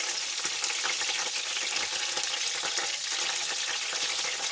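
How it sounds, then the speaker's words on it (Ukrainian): Potatoes stuffed with minced meat fry in a pan, giving a close, loud and constant sizzle with crackling oil and no voices. "Коли ви отак от трішечки їх підсмажили"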